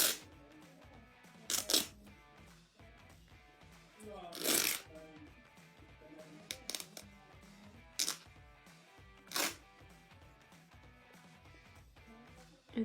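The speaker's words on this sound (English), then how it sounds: "so I have another strip, and I'm just ripping it." Cotton T-shirt fabric torn by hand into a strip for a knotted dog toy, heard as several sharp, near ripping bursts spaced across a quiet indoor scene, with faint handling and rustling between tears.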